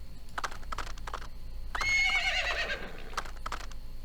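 A single horse whinnies in the I Spy Spooky Mansion video game, a clear rising and falling neigh in the middle, with faint clip-clop hooves before and after it.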